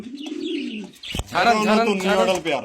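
Pigeons coo nearby, a low rolling coo opening the moment before a voice starts speaking over the bird sounds.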